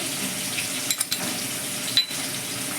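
Potato and papaya pieces frying in a pan, a steady close sizzle broken by a few brief clinks and stirring knocks, with no speech.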